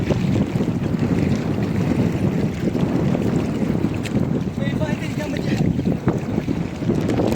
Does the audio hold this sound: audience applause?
no